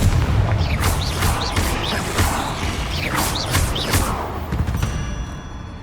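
The Confringo fire spell from the Hogwarts Legacy video game blasts eggs in a run of repeated booming, crackling bursts over dense, loud game ambience.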